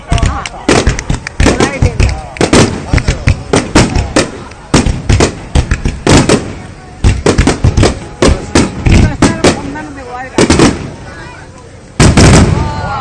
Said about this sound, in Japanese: これ、花火はこれいい花火だ。